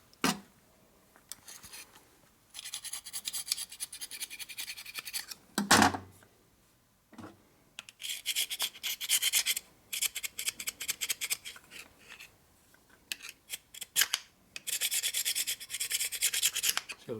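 A scraper rasps over a 1972 Harley-Davidson XL Ironhead Sportster clutch primary part in repeated close, gritty strokes separated by short pauses, with a few knocks between passes.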